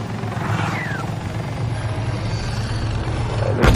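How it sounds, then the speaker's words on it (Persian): A helicopter in a war video game with tanks drones on steadily overhead, a loud continuous rotor hum throughout, with a brief sharp burst of noise near the end and no talk. "بالگرده بچه ها اون بالا دارن"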